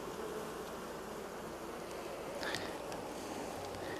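Honey bees buzzing during a beehive inspection after a storm, a dense continuous hum close by with a brief sharper sound midway.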